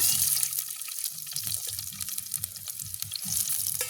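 Chopped onions sizzle and crackle steadily in a hot pan, close by, with intermittent stirring scrapes and no talking.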